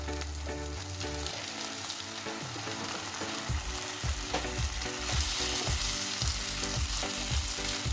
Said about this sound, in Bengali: এবার এই পটলের সাথে চালটাও একটু ভেজে নেব